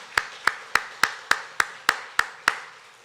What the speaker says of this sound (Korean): 우리 하나님께 큰 박수로 영광 올려드리겠습니다